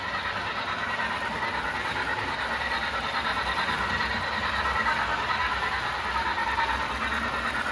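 A model train runs steadily on the Reading Catawissa Branch layout as it enters a helix. The sound is a continuous, even mechanical rumble and rolling whir with faint squeal, close and unbroken, with no talk.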